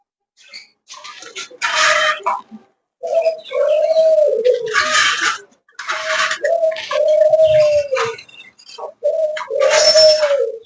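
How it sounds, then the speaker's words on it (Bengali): Pet pigeons kept on a small bird farm coo close by in repeated rounds, each a low throaty rolling call lasting a second or two, separated by short pauses, with no talk. "দেখুন আমার সেই গুগু পাখি"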